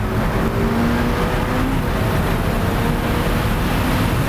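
Turbocharged V8 of a 710 hp Ferrari F8 Spider pulling hard under boost, a loud, steady, rising engine roar heard from close by with no talking.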